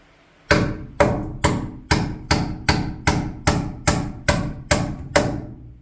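Hammer driving a wall stud down into place against the plate, eleven sharp, evenly spaced blows about half a second apart, each ringing briefly before the next, close and loud.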